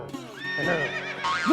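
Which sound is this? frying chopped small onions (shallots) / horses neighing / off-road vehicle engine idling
horses neighing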